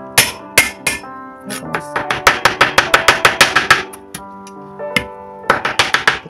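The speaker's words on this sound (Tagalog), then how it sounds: "So yung luya, papunch lang natin siya." Fresh ginger pounded for a Chinese steamed pork rib dish with shiitake mushrooms: close, sharp knocks in uneven bursts, including a fast run of a dozen or so strikes, with a brief spoken word between.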